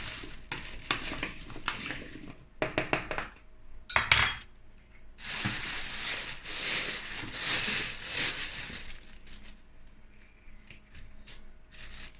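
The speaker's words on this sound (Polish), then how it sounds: "zamieszam." Baked potatoes with herbs and chicken get stirred in a metal pan, with repeated scraping clinks and clatters of utensil on cookware, close and fairly loud, in uneven bursts and longer rustling passes.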